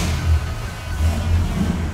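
A 1969 Dodge Super Bee with a 440 V8 rumbles loudly at close range, its deep low throb swelling in a few pulses like an engine just fired and blipped, with no talking.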